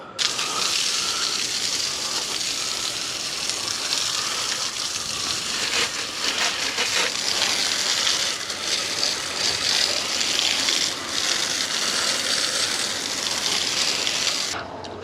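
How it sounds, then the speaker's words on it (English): Steady rushing spray of water from a hose rinsing the wheels of a Sur-Ron electric bike, continuous and fairly loud, with occasional clicks and rattles over about fifteen seconds. "let's hose these off"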